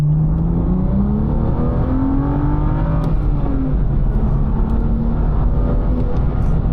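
A BMW M2 (F87) with an N55 inline-six and manual gearbox pulls steadily upward in pitch through the gears, loud and close, its smooth drone rising, dipping at a shift, then climbing again.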